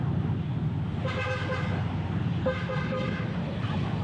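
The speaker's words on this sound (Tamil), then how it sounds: "டிராஃபிக் ஆரம்பிச்சிருச்சு மறுபடியும் இதுக்குள்ள" Busy road traffic in Vietnam rumbles steadily while car horns toot in two bursts, one early and one later, fairly close.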